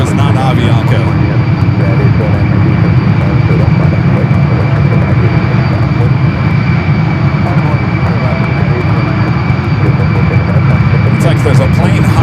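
Aircraft engine noise at San Francisco International Airport, a loud, steady roaring drone that fills the whole stretch without letting up, with the source unseen from a plane-spotting spot.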